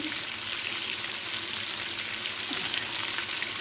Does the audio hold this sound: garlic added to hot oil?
yes